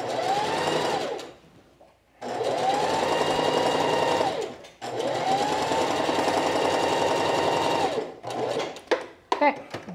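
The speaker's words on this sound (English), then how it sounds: "I'm going to stay stitch the neckline, starting at the shoulder and ending at the center front" A sewing machine stay-stitches the neckline of a sheath dress with a loud, close, buzzing whir. It runs in three long bursts separated by short pauses, then ends in scattered handling clicks.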